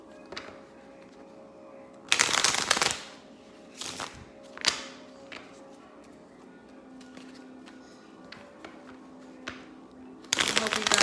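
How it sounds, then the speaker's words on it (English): Uno cards being shuffled, with two loud riffling bursts, a few shorter flicks between them and another burst at the end, close to the microphone. "Let's go ahead and shuffle."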